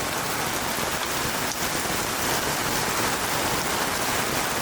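Heavy rain pours down steadily during a typhoon at a river valley campsite, a dense, unbroken hiss of drops drumming on surfaces with no pauses and no voices.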